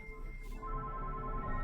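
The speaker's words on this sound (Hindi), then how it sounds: "घर के अंदर से उसके फोन की रिंग सुनाई दी।" A mobile phone ringtone sounding from inside a house, heard as a steady electronic tone with sustained pitched notes over a low hum, continuing through the moment.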